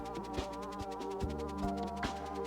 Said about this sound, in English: Or at least we'll try to help with the bees.